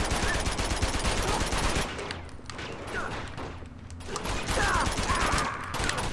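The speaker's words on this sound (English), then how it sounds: "Who's shooting me from where?" Gunfire from Uncharted 2: Among Thieves, a dense fusillade of rapid shots that thins in the middle and swells again, loud and close, with game noise around it.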